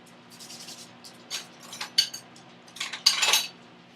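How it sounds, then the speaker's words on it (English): A heaping teaspoon of baking soda goes into a banana bread mixture in a bowl, with several clear metallic clinks and scrapes of the spoon against the bowl that grow louder toward the end, close and with no talk. "I add a teaspoon of baking soda into this mixture"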